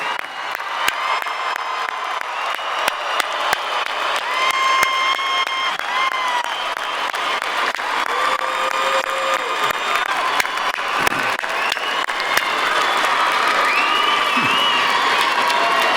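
A large commencement crowd at a college graduation applauds and cheers continuously, with dense loud clapping, scattered whoops and shouts, and a steady wash of crowd noise throughout.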